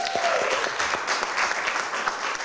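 Audience applause for a symposium panel, steady dense clapping from a crowd filling the whole moment, with a faint tonal whistle or feedback at the start.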